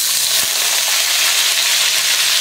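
Marinated chicken sizzles steadily in a hot pan, a dense, even hiss that runs without a break and carries one brief soft knock near the start.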